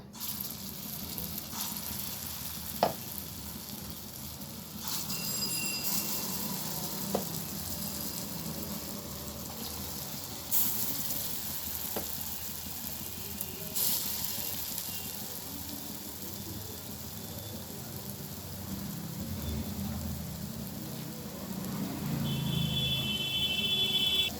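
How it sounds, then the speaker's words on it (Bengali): Split pea lentil fritters frying in hot oil in a wok, giving a faint, even sizzle throughout with a few scattered clinks and light bubbling. "আমি এবারে বড়াগুলো ভেজে নেব।"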